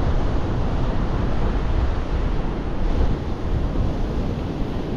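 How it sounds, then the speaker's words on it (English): Gusting wind at the seashore at South Withernsea roars loudly and continuously into the microphone, buffeting with low rumbles over a surf-like wash, with no voices. "that wind's getting up now. Proper gusting."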